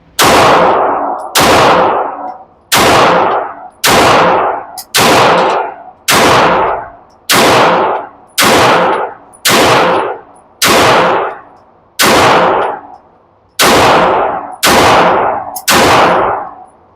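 Pistol shots from a Girsan Witness 2311 Match X fired at a target, about a dozen loud, sharp reports at a steady, evenly spaced pace, each with a brief ringing decay, no talking.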